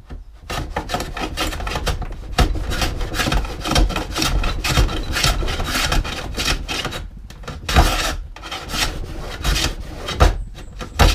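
A hand plane shaves wood on a shooting board while building a boot rack. Rapid rasping strokes repeat one after another, close and fairly loud, with short pauses between passes.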